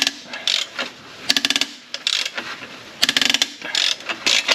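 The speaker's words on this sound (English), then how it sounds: "we'll just take the ratchet, make sure she's square so we don't round off the bolt" Ratchet wrench tightening a bolt during a V8 engine swap in an E320 wagon, giving bursts of rapid clicking ratchet strokes repeated in rhythm, close and loud with no talk.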